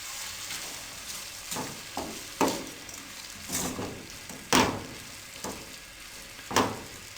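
Ingredients for Chinese fried rice sizzle steadily in a hot pan while a spatula stirs and scrapes, giving regular loud metallic strokes roughly every second over the continuous frying hiss, with no speech.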